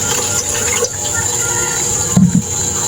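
Water is poured from a container into a casserole cooking pot while gabi ginataan is prepared outdoors. A steady, rushing splash runs throughout, broken near the end by a couple of dull clunks.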